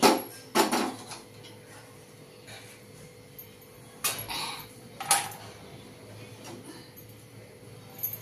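A few metal knocks and clatters as a wok is set down on a gas stove, with a soft hiss of the lit burner between them.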